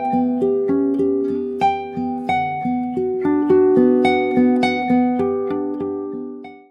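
Solo classical guitar plays a piece by Barrios, close and clear, with a steady flow of plucked notes and chords, each note ringing and decaying before the next, and no talking.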